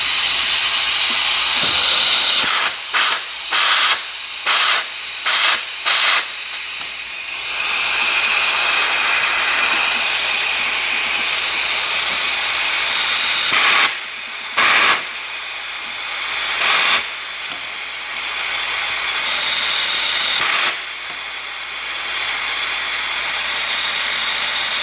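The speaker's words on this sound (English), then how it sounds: "I noticed when I put compressed air to it" Compressed air hisses steadily through the vent solenoid of a 2018 GM truck with a 5.3 engine, loud and close, broken by a run of quick on-off bursts early on and a few brief cutoffs later.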